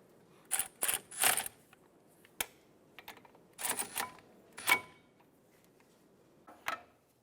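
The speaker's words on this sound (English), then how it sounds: "Install your caliper bolts." A ratchet tightens the brake caliper bolts on a 2005-2007 Ford 500 in short bursts of rapid, close clicking, separated by pauses and a few isolated metallic taps.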